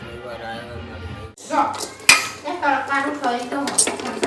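A metal spoon clinks and scrapes against pots and pans, with one sharp clang, while a voice talks nearby.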